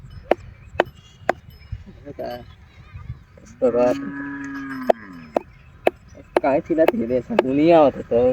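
On a farm, a cow gives two low, wavering moos, the second rougher and overlapping more noise, while sharp knocks sound and people talk nearby.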